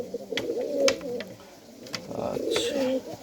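Pigeons in a loft, including a green male and hen paired together, coo in low repeated throaty bursts nearby, with faint background noise and brief clicks between phrases.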